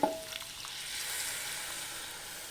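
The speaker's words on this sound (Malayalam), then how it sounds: "ആവശ്യത്തിനുള്ള വെള്ളം ഒഴിച്ചെടുക്കാം നല്ല തിളച്ച വെള്ളമാണ് ഒഴിച്ചെടുക്കണേ" Boiling water poured into a hot pan of capsicum masala gravy, setting off a loud, steady sizzling hiss that follows a brief sharp splash at the start.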